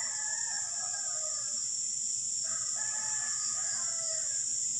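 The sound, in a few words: roosters crowing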